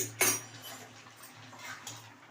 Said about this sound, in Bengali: এবার ঢাকনাটা খুলে দেখে নিই